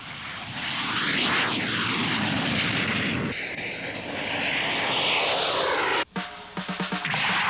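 A fighter plane roars loudly in a 1984 Macross anime dub, its engine sweeping past and then droning steadily, ending in a sharp clunk and a run of rapid mechanical clicks.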